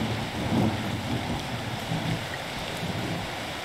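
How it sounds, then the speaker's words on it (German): Rain falling in a farming simulation game, a steady broadband hiss of rainfall with faint low rumbles, continuous and even throughout. "Der Regen ist gut, den brauchen wir auch."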